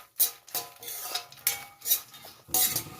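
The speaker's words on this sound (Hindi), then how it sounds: "और अब इसी कढ़ाई में मैं 1 चम्मच घी और डालूंगी, और इसमें अब हम रोस्ट करेंगे मखाने।" Makhana fox nuts roast in ghee in a kadhai, stirred with a metal spoon that gives repeated close clinks and scrapes against the pan in an uneven rhythm, the sizzle faint underneath.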